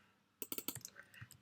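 A short, quiet burst of roughly half a dozen quick keystrokes on a computer keyboard while writing PHP code, followed by a couple of softer, scattered clicks, with no talking.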